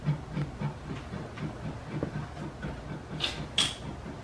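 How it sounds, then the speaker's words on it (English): Vegetables sauté in olive oil in a pan for a home stir fry, a steady close sizzle and crackle with scattered pops and a couple of brighter hissing bursts. "all I do is just saute them in the olive oil"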